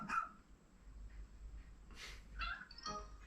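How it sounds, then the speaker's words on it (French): A young dog companion in the video game Pikmin 4 gives several short, bright barks and yaps spaced across a few seconds, fairly close and clear over a low, steady game background hum, with no talking. "voilà un petit chien du coup"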